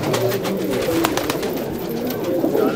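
A white and brown pigeon coos softly and repeatedly nearby, low rolling calls over a steady background hum, with no talking.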